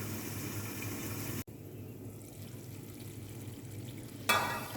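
Mutton tikka braising in a pan gives a low, steady sizzle that carries on through the clip. It grows louder and brighter near the end, with no talking.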